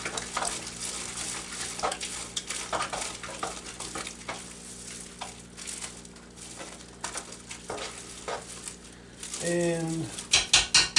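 Mixing spoon stirring slow cooker chili in a pot, a steady close scraping and squelching churn with a few louder knocks near the end; a voice and bird chirps are faint in the background.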